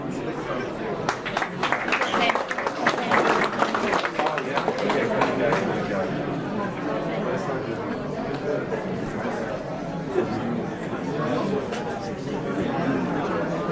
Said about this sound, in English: And please clap.